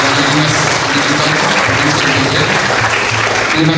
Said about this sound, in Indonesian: tepuk tangan buat Pak Amros dan seluruh jajaran dinas digital